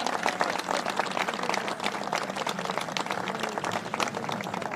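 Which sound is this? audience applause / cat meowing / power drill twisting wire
audience applause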